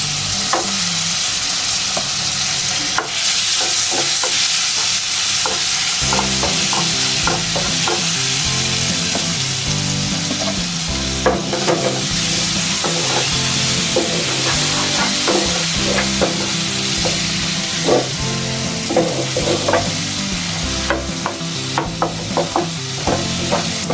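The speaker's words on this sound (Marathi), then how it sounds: "इथे मी जो पहिला मसाला आहे ना तो आता ह्याच्यामध्ये परतून घेणार आहे" Stuffing masala for bitter gourd sautéed in hot oil in a pan, loud dense sizzling throughout, with rhythmic scraping and clinking of a spoon stirring in the middle stretch.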